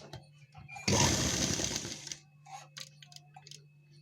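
A sewing machine stitches gharara fabric in one fast, dense burst of about a second, with quiet shuffling and faint handling noises before and after.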